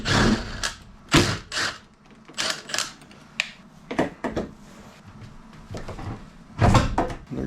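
A fridge's freezer door is unbolted and removed in a toter home living quarters, heard as a close series of loud clunks, knocks and rattles of the door and its hardware, irregularly spaced with quiet gaps between.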